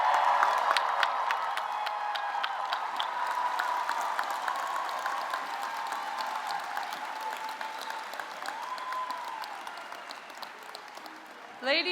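Sustained audience applause at the 2024 Drexel University College of Nursing and Health Professions commencement ceremony, a dense steady wash of many hands clapping with faint cheers, continuing for the whole stretch before a voice briefly starts at the end.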